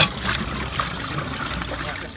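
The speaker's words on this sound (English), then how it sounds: "Got to get the end all the way down and in to stop splashing and press the button at the same time." Liquid waste from a campervan cassette toilet pouring and trickling out through its spout into a drain, a steady splashing flow close by with no talk.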